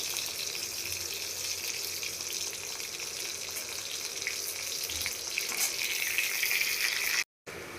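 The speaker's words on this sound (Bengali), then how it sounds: "এবার কড়ায় তেল দিয়ে তাতে আমি দিয়ে দিচ্ছি দুটো শুকনো লঙ্কা এবং দিয়ে দিচ্ছি অল্প করে পাঁচ ফোড়ন" Two dried red chillies and a little panch phoron fry in hot oil in a wok: a continuous bright sizzling hiss at moderate level, cut off by a short silence near the end.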